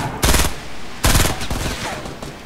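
Rapid bursts of automatic gunfire in the Fortnite video game, two loud close volleys about a second apart followed by fainter shots, with no talk over them.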